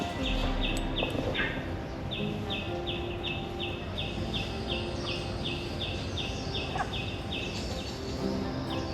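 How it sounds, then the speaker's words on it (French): Birds call in a city park in China, one bird repeating a steady series of short, regular chirps over a constant hum of insects and distant background noise, with no voices. "Je commence à entendre des animaux. Bon, les oiseaux je connais, mais j'entends des cris que je ne connais pas."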